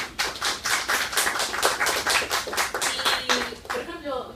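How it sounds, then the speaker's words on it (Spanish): A crowd claps steadily at a lecture, a dense burst of applause that carries on for several seconds before thinning out near the end. "agradecemos todos con un aplauso a Diego."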